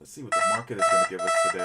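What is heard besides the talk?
trading platform price alert alarm beeping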